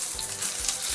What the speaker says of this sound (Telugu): ఇప్పుడు పోపు పెట్టేద్దాం.